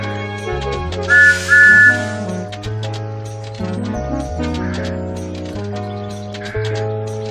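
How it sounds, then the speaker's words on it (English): Thomas the Tank Engine's steam whistle in a children's video game, a bright tooting blast rising over cheerful background music, with no talking. "This is Thomas's whistle."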